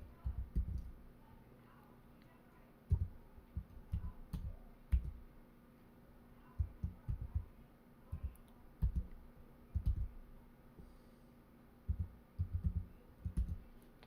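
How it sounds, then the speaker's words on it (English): Keyboard keys tapped in short bursts to enter a code, soft clicking clusters separated by pauses, quiet and close with a faint steady hum underneath. "I'm typing in your code."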